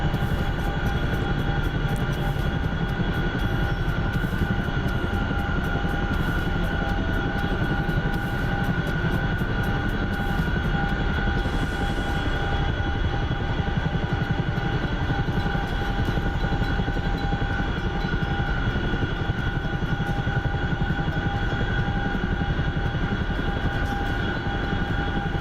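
A Chinook helicopter flying in a video game gives a steady, loud rotor and engine drone that holds constant throughout, with no talking.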